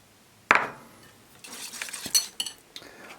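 Eggs are mixed into melted chocolate and butter for an Oreo chocolate cake, starting with a sharp clink of utensil on bowl, then a run of light scraping, tapping and clinking stirs, close and fairly quiet.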